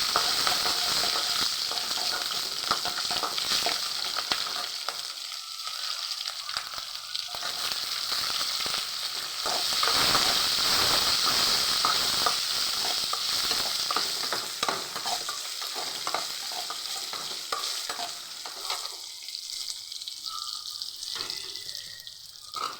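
Green chillies fry in hot oil for a snake gourd stir-fry, giving a loud, continuous sizzle for over twenty seconds, broken by scraping stirs and a few quieter gaps.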